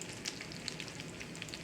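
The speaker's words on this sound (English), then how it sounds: "Get my pork stirred around over here." Pulled pork sizzles steadily in a hot pan beside braising cabbage, a dense crackling hiss with occasional sharper pops as it is stirred, close and alone with no talk.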